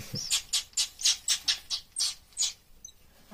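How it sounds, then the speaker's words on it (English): Baby chimney swift birds squawking in a house chimney: a rapid series of about ten shrill, raspy chirps in a quick rhythm, faint and slightly distant, with no talking. "See the little birdies."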